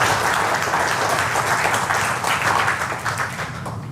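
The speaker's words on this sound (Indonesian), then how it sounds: "tepuk tangan dulu buat platinum nanoparticles" Loud, dense audience applause fills a talk about platinum nanoparticles: a continuous roar of many hands clapping at once, steady throughout and easing slightly near the end.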